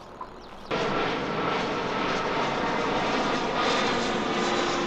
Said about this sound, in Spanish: pasándose aviones a, 20 metros de altura